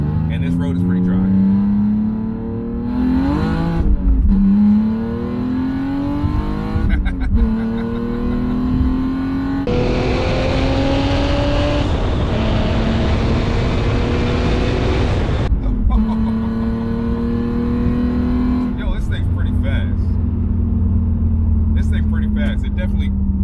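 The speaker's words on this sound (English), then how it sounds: "It's got a loud Corsa exhaust." A loud twin-screw supercharged BMW E46 330i with a Corsa exhaust roars through repeated revving and acceleration runs, rising in pitch with each gear, close and dominant throughout.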